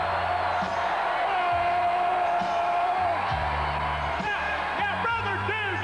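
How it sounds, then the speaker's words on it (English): Capacity wrestling arena crowd at the Royal Rumble 1989 pre-show roaring for Hacksaw Jim Duggan, a constant loud wall of cheering and whooping with a voice shouting over it. "Hacksaw bringing his capacity crowd alive"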